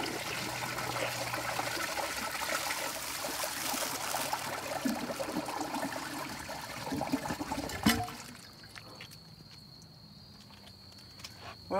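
A 1.6 gallon 1959 Nationaline Envoy toilet flushes loudly with a steady rush of water that runs for about eight seconds, then cuts off abruptly, leaving a quiet trickle and gurgle as the bowl refills.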